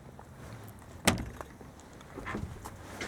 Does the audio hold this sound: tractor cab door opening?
yes